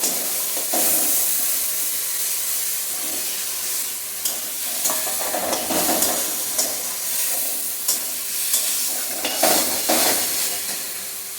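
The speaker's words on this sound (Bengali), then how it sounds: "আলু আর মশলা আমার খুব ভালোভাবে কষানো হয়ে গেছে তেল ছেড়ে দিয়েছে মশলার গা থেকে" Potatoes and spices sauté in oil in a pan with a continuous close sizzle, broken by repeated scraping and stirring knocks and bursts of crackle, with no voices.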